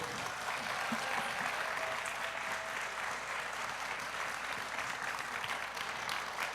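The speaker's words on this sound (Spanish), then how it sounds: "Les pido por favor un aplauso bien grande para Guido." A conference audience at a gastronomy congress in Popayán applauds chef Guido Niño, sustained dense clapping at a moderate, fairly distant level with no voices on top.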